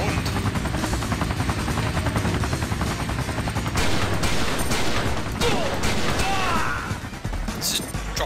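A helicopter whirs with a dense, continuous rotor chop in the video game XIII, overlaid by bursts of gunfire and crashes, with someone talking over the din.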